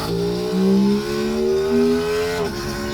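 An Aprilia RS 660 motorcycle engine revs hard in second gear with a loud, rising, sustained tone. The pitch climbs and then dips near the end at the shift. No voices are heard.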